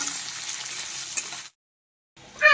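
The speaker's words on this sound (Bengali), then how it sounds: "দেখো বেগুনটা দিয়ে দিচ্ছি, এখন বেগুনটা একটু ভেজে নেবো" Eggplant pieces fry in hot oil in a village kitchen, a steady close sizzle that cuts out for a moment, then returns louder with spattering.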